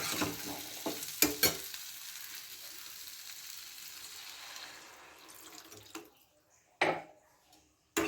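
Water poured into a pan of new potatoes and green peas frying for a Bengali veg curry, a loud rushing hiss and sizzle that fades out, followed by a few sharp clanks of pan or lid.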